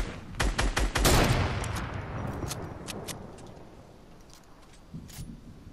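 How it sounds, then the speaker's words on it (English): A volley of rapid gunshots rings out in a video game battle, loud bursts in the first second or so, then a decaying rumble with scattered fainter shots and clicks trailing off. "They just shot someone in there."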